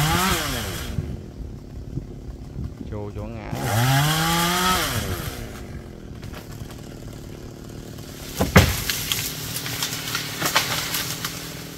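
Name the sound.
chainsaw cutting a large melaleuca tree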